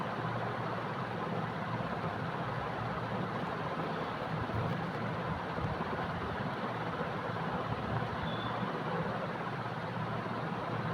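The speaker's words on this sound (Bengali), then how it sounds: "ট্রেন ছেড়ে দিয়েছে, ট্রেন এখন চলছে।" A train running after departure gives a constant low rumble and broad mechanical roar, steady and unbroken from start to end, heard from inside at moderate, even volume.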